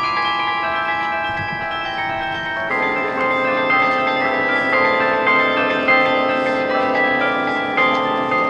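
Bells ringing continuously and loudly together, a dense sustained peal of overlapping tones with no voices, shifting slightly in pitch partway through.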